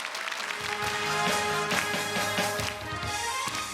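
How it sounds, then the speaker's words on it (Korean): Studio audience on the Korean quiz show Golden Bell Challenge applauds a trot-singing hopeful, a dense steady patter of clapping blended with a swelling musical backing. "박수로 청해보겠습니다"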